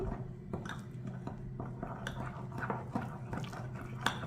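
Curd being stirred into a powdered herbal face pack, giving soft, continuous wet squishing and sticky dabbing sounds at close range with no talking.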